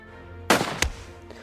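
Two sharp gunshots go off in the video game Soviet Soldier, a loud blast followed about a third of a second later by a second crack, then a faint after-thump.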